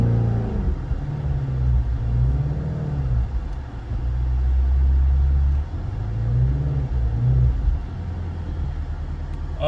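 A 2020 Shelby GT350 eases away under gentle throttle, its V8 giving a deep, loud burbling rumble that rises and dips in two slow swells before settling into a steady idle-like drone.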